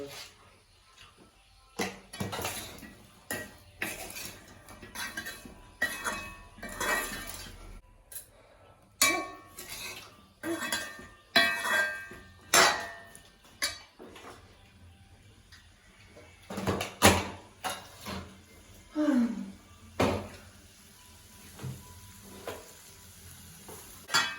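Chickpeas and grated coconut are stirred in a pan on the stove. A spoon repeatedly scrapes and clinks against the pan over a low sizzle, in uneven bursts, with occasional talking in between.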